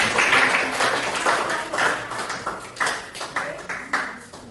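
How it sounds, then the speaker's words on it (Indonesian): A university class claps for a student group after its answers, an uneven patter of hand claps from a modest group that fades in waves, fairly close in a small room. "Beri tepuk tangan dulu."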